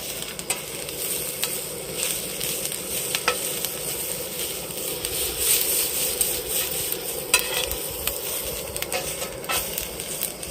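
Garlic sizzles steadily in a pan at a campsite cookout alongside rice and beans, a constant crackling fry with occasional stirring scrapes and taps, close and fairly loud, no talk.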